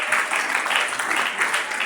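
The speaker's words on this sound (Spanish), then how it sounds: "Denle ese aplauso fuerte al Rey de la Gloria." An evangelical gathering gives a short burst of dense applause for the King of Glory, with steady, lively clapping from a crowd throughout.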